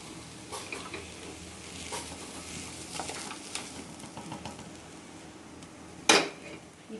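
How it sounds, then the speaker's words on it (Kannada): Scraping and light clatter of a utensil transferring dried chicken pickle into a metal vessel, ending in one sharp metallic clank, with faint sizzling underneath. "ಇದನ್ನು ತಕ್ಕೊಂಡು ಇಟ್ಕೊಳ್ಳೋಣ ಪಾತ್ರೆಯಲ್ಲಿ"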